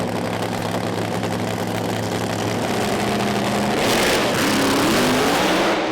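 Pro Mod drag racing car on the start line at Santa Pod Raceway, a loud, rough engine drone that holds steady and then swells in pitch, heard close with no voices over it.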